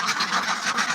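Agidel ducks quack in a dense, continuous flock chorus, several birds calling over one another at close range with no pauses between calls.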